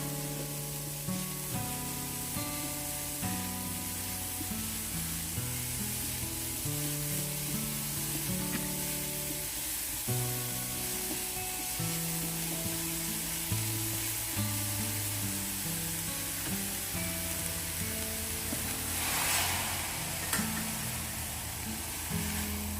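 Onions and button mushrooms sizzle in a frying pan in a steady, even hiss that runs throughout beneath a continuous musical backing.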